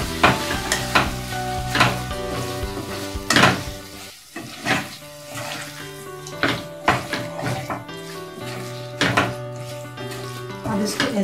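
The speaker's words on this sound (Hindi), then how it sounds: "ऐसे धीमी आंच पे थोड़ा देर" Egg keema frying slowly in a pan over low heat, with repeated spatula scrapes and clatters over a soft sizzle and a faint steady tonal background.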